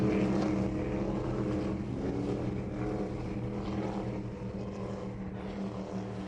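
A MacGregor 26M yacht motors past under power, its outboard engine giving a steady, loud drone with wind and water rush that fades slightly toward the end.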